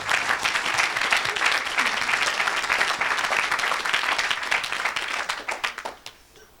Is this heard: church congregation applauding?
yes